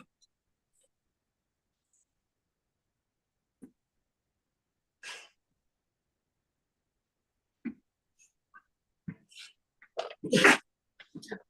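A puppy gives a small sneeze, a brief bright burst near the end among a few soft clicks and sniffs, close by in an otherwise quiet room.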